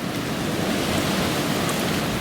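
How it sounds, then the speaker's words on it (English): Steady, roaring wind from 50-mile-an-hour blizzard gusts whirling snow rushes without pause, a dense howling wash of noise like a storm blowing hard outside. "There is 50-mile-an-hour gusts going on out there, and it is whirling this snow around"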